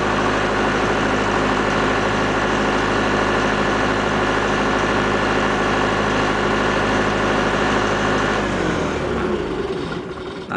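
A Multipro SDG 30000 AS generator engine idles steadily through its cooldown, a loud, even low hum with rich harmonics that runs unchanged for about eight seconds, then winds down and stops near the end.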